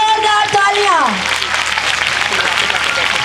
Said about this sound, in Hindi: आप जोरदार तालियां बजाकर इनको वेलकम करेंगे